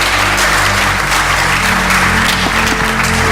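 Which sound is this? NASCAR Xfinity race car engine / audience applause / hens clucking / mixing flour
audience applause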